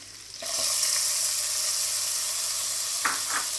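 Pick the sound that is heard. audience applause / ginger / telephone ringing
ginger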